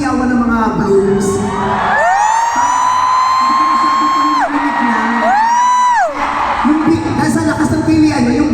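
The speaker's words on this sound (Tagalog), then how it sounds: "ang lakas ng hiyawan ng mga blooms" BINI fans, the Blooms, scream loudly during a live talk segment with Vice Ganda, a packed crowd roaring with long, high-pitched shrieks and whoops that rise and fall in waves over the continuous din.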